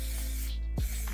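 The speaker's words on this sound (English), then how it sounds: "Spray with a little bit of" A short hiss of aerosol oil sprayed into a non-stick baking pan, one quick burst lasting under a second, close by over a steady low hum.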